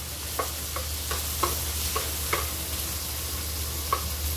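Chicken tinola cooking in a pot, with a steady sizzle under repeated light scraping taps of stirring, about a dozen spaced strokes over a constant low hum.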